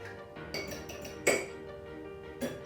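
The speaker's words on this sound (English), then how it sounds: "I'm going to crack an egg for the egg wash" An egg cracked against a hard edge in a home kitchen for egg wash while making stuffed bagel balls, giving a few short, sharp clinks near the microphone with a louder tap midway and another at the end.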